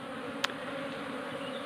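A honey bee colony near a hive box during a daytime transfer gives a dense, steady close buzz of many insects, with one brief sharp click near the start.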